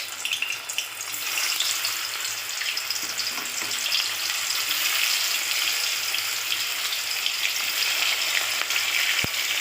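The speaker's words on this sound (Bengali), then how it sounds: "আর এদিকে আমি সাদা তেল দিয়েছি, এবার আমি ভেজে ভেজে তুলে নেব" Pieces of banana flower fry in white oil in a pan, a continuous crackling sizzle with sharp spattering pops, steady and close throughout with no talk.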